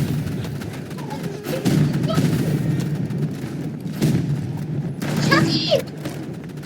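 Bursts of gunfire and explosions from a shooting video game, moderately loud, with players talking over the action.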